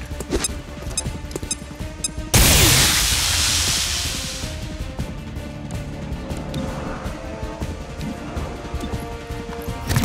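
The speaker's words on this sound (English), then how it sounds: "Throwing grenade!" A grenade explodes in the XCOM: Chimera Squad video game, a sudden loud burst that decays into a long rumbling tail over busy game sound effects.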